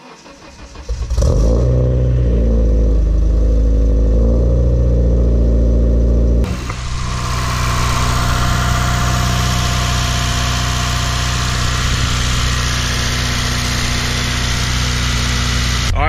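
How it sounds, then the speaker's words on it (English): A Honda car engine turns over and catches, settling into a steady, loud idle with a continuous low rumble that carries on without any talking. "I'm gonna start the car, let it run for a bit"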